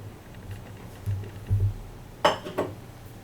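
A spoon or spatula mixes ginger cookie dough in a bowl, making a few soft scrapes and thuds against the bowl, followed by a couple of brighter clinks near the end.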